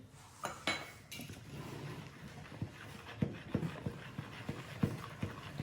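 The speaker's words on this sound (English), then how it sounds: "give that a thorough mix using our stirring spoon" A stirring spoon works through a sticky sourdough mix of flour and water in a bowl, giving soft scraping knocks in an irregular rhythm with a few louder clacks against the bowl, close and fairly quiet with no talk.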